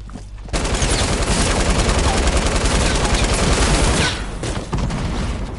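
Loud, sustained LMG machine-gun fire in Fortnite, a dense stream of rapid shots lasting several seconds, then briefly easing before picking up again.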